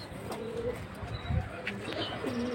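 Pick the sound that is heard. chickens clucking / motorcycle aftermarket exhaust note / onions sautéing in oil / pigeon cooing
pigeon cooing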